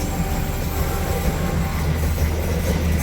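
A passenger train rolls across the Cisomang railway bridge on the line toward Bandung, a loud, steady, close rumble of wheels and carriages that holds without a break.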